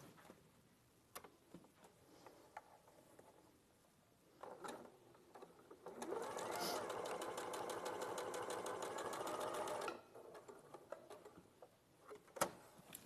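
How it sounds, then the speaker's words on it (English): Sewing machine stitching fabric squares together, a short burst of rapid, even mechanical chatter lasting about four seconds between quieter stretches of handling noise and small clicks. "And then I'll sew those two together."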